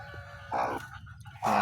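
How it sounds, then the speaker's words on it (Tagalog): Newly hatched chicks give short, high cheeping calls in two brief bursts, close by, over a low background hum. "mga bagong pisang sisiw na po yan"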